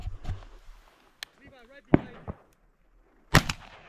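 A shotgun fires during a duck hunt at Summer Lake, Oregon, with a sharp blast near the start and another loud report near the end, while hunters talk between the shots.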